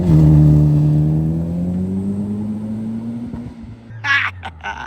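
A Toyota Celica GT-Four rally car, a homologation model, runs along a dirt road, its engine droning steadily close by with a slowly rising pitch before a brief burst of louder, gritty noise near the end.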